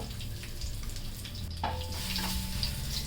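Cumin, red chilli, curry leaves and asafoetida sizzling in hot oil in a pan, a soft steady frying hiss with a brief stir and clink midway, no voices.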